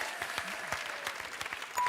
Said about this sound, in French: Je voudrais vraiment qu'on applaudisse Élodie qui va continuer notre émission